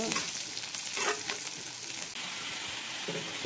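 Onions fry and get stirred in a pan for a chicken curry, a soft continuous sizzle with brief scraping stir bursts, fairly quiet, no talk.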